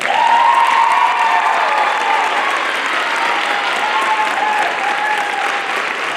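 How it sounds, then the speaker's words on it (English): Loud, sustained audience applause at a school band's holiday concert, a dense wash of clapping from a large crowd that holds steady throughout with a few faint cheers. "Everybody clap for Linda."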